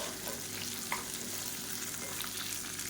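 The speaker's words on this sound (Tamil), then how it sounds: "இப்போ வெங்காயம் வதங்கிட்டு இருக்கையிலே புளி சேர்த்துக்கலாம்" Onions sauté in a pan with tamarind and a small gooseberry for onion thokku, giving a steady close sizzle with faint stirring scrapes throughout.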